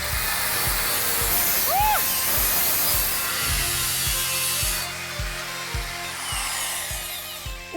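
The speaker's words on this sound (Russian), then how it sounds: "Шлифовальная машина для шлифовки и для резки металла." A rough, continuous grinding hiss of an angle grinder cutting metal, steady and loud, with faint thumping knocks underneath.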